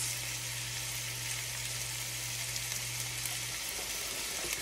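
Soy sauce, garlic powder and sweet Thai chili sauce sizzle in a pan for a bulgogi beef ramen sauce, a steady broadband hiss that stays even and close throughout, with a low hum underneath and no talking.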